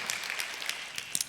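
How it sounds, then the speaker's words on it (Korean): A church congregation claps together in a worship service, a dense, steady patter of many hands at moderate volume, filling the room without any voices on top. "우리 박수 한번 주님 앞에 올려드리면서 주의 영광을 구하도록"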